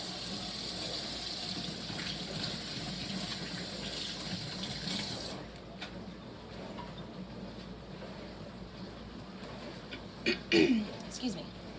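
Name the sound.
rinsing hands under running tap water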